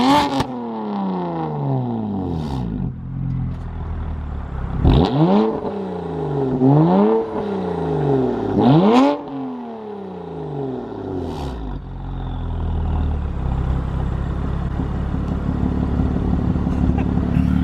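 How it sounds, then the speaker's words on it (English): A stationary BMW fitted with ARM resonated downpipes and an equal-length mid pipe revs in sport mode: a rising idle blip, then three sharp climbing revs that fall back, followed by a settled, droning idle. "I'll get you guys some standing revs right now in sport mode,"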